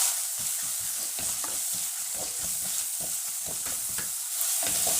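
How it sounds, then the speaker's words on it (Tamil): Curry leaves frying in hot oil with fenugreek for a village-style fish curry, a steady broad sizzle with quick stirring scrapes running throughout, close and fairly loud, no voices. "இப்போ கருவேப்பிலை போடுவோம்."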